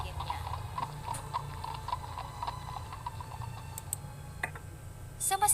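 Horse hooves clip-clop at a steady trot as a sound effect, a faint, even series of hollow knocks over a low background hum, ending in a brief louder rustle.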